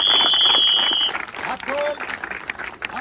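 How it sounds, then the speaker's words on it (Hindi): An audience bursts into applause at a weight-loss event, loud dense clapping that begins strongly then thins into scattered claps, with a shrill whistle-like tone at the start. "एक बार जोरदार ताली हो जाए।"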